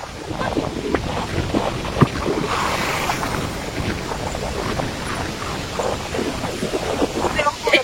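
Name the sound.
strong wind blowing outdoors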